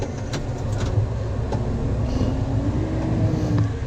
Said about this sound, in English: it's a cracking little tractor, this thing.